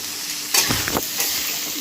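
Potatoes and pointed gourd sizzle and crackle in hot oil, with a few scraping stirs in the pan, close and moderately loud, no voices.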